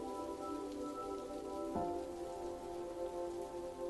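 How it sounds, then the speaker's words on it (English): Heavy rain drums steadily against a bedroom window, a dense continuous wash of patter that holds throughout, with soft sustained musical tones underneath. "a heavy rain was beating against her bedroom window"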